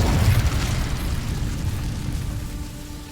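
The Incendio fire spell bursts in Hogwarts Legacy as a loud, deep, booming blast that rolls on as a steady rumble and slowly fades over a few seconds.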